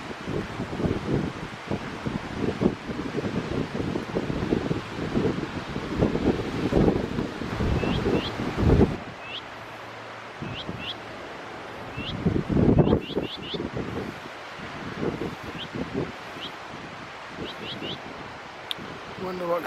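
Wind gusting across an exposed seaside cliff at Splash Point, Watchet, rumbling and buffeting the microphone in bursts, with brief chirping bird calls in lulls and a voice speaking at times.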